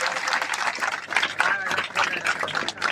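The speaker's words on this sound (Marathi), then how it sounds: "या सर्व सत्कार मूर्तींसाठी एकदा जोरदार टाळ्या होऊन जाऊ द्या" Audience applause for honorees at a felicitation ceremony, dense continuous clapping from a crowd filling the space at steady loudness, with some voices mixed in.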